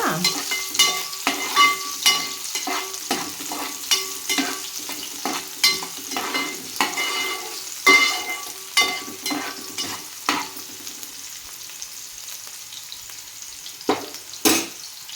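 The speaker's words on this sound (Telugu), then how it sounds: "ముందుగానే తరిగి పెట్టుకున్న ఉల్లిపాయలు, ఆనియన్, ఇవి కొంచెం ఫ్రై అయిన తర్వాత" Chopped onions fry in hot oil in a pan while a spoon scrapes and stirs them in repeated rhythmic strokes, a soft sizzle running underneath, close up, the stirring thinning out toward the end.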